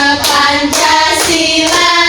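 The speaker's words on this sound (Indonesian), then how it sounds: "Sampai tepuk tangan ya." Classroom of fourth-grade children claps hands in time with a sung patriotic song, rhythmic loud claps repeating about every half second over a sustained melodic tone.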